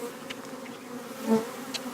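A dense, close buzzing of many honey bees inside floor joists hums continuously, with a few louder individual wingbeats passing near.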